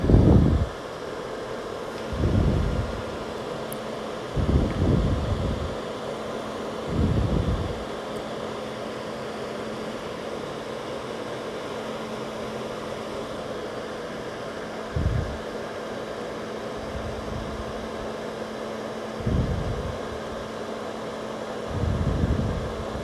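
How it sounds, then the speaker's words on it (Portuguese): A fan and a vacuum run steadily to dry nail prep during a gel nail session, giving a continuous whooshing hum with several louder low-frequency bursts and no talking. "Vou ligar meu ventilador, meu aspirador aqui, só para secar mais rápido."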